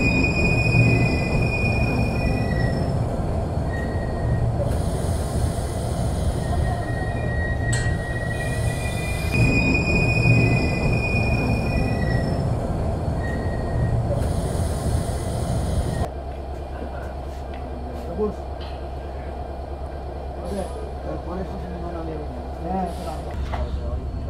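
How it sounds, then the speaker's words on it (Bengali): Simanta Express pulling out of Saidpur, a loud rolling rumble with long high wheel squeals over the rails, then a sudden drop to a quieter, muffled running sound with soft clatter. "আমাদের ট্রেন সৈয়দপুর থেকে আবার যাত্রা শুরু করলো নীলফামারী রেলওয়ে স্টেশনের উদ্দেশ্যে"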